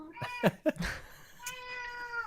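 A house cat gives a couple of short, close meows followed by a longer drawn-out cry, heard clearly in a quiet room during an online podcast recording.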